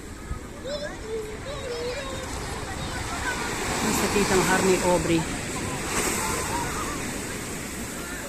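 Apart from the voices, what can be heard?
ocean waves on the shore at Puerto de Santiago, Tenerife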